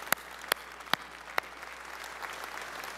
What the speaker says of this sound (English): I'd like to give a big round of applause to our Customer Advisory Council